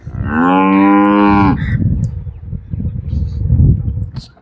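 A dairy cow lets out one long, loud, close moo lasting over a second, followed by low rustling and background noise.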